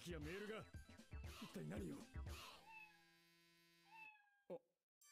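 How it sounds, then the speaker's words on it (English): A cat meows in an anime episode, with a drawn-out tonal cry that rises and then trails off, heard right after a stretch of animated speech. "A cat?"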